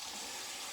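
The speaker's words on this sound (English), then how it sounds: "sorry for the faucet tap" Faucet tap running water, a steady bright hiss of flow, faint and continuous throughout.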